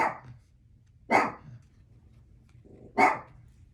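A dog barks in single sharp bursts, three barks spaced about a second apart, fairly close, with quiet low rumble between.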